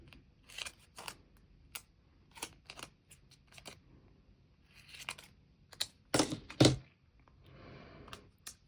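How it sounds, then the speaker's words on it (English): Scissors snip through paper, cutting printed words apart at a planner desk, in a run of separate crisp cuts with pauses between them and a heavier rustle of paper near the end. No one talks. "So I'm just gonna cut these words apart."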